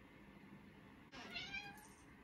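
A house cat gives a single short, rising meow close by, breaking into a quiet room during a craft session making a dried flower ashtray with glitter.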